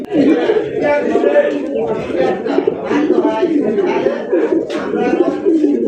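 Black Bombay fancy pigeons coo in a steady, low, throaty stream throughout, close by and loud, with voices or chatter mixed in underneath.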